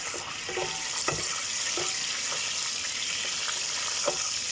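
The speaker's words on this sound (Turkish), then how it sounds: "Yağ cızlamaya başladı" Oil sizzles in a pot on a stovetop while chickpea and chicken pilaf is being made, a soft continuous hiss broken by a few light pops and clicks.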